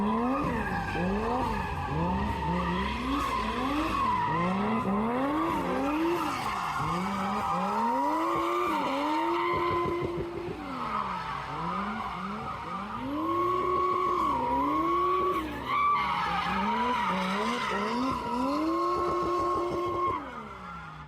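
A Nissan Skyline drifting at Ebisu circuit in Japan, its engine revving up and down in repeated swells while tires squeal loudly and continuously through the slides, close and without voices.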